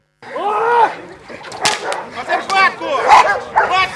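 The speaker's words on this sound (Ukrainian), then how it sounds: "Багіра, вона захисна розшукова собака." A search and protection police dog barks and yips in a run of sharp, loud calls close by, with short whimper-like notes between barks.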